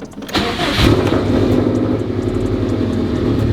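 A 2004 Subaru WRX STI engine cranks and catches, then settles into a steady, loud idle with a rising rev near the start.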